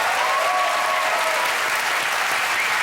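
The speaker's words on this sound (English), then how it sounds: "give her a round of applause" A studio audience at a televised comedy quiz show breaks into sustained, even applause, loud and continuous from start to finish with no talking over it.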